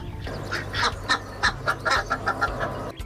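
Ducks quacking on an integrated livestock farm, a flock giving a run of repeated, closely spaced quacks at moderate distance over steady low background rumble, with no talk.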